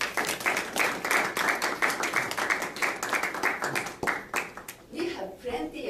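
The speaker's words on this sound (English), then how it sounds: "Please give her another big applause." Audience applause at a Tokyo youth leadership summit conference, dense clapping filling the room for several seconds and thinning toward the end, with voices over the last moments.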